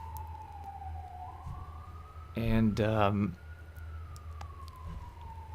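A wailing emergency-vehicle siren sweeps up and down continuously in the background, moderately distant, while someone speaks briefly over it.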